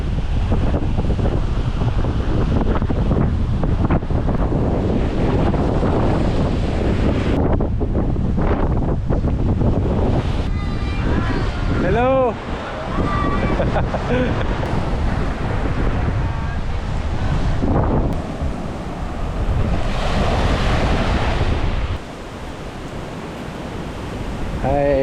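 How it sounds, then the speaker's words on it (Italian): Strong wind roars steadily over the sea on a beach in Boracay, buffeting the microphone alongside the wash of surf, loud and continuous throughout with brief gusty dips. "Purtroppo c'è troppo vento"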